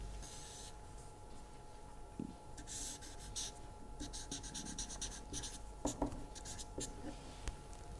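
A pen sketching a function on paper, scratchy strokes in short bursts with pauses, close and fairly quiet over faint room hum.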